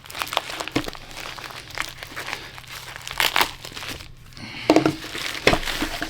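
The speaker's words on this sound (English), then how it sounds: "But let's get these things kind of opened up, and we'll see what they look like." Mower replacement blades come out of bubble-wrap packaging with a run of crinkling and crackling handling sounds, close and moderately loud, with irregular louder bursts and no talking.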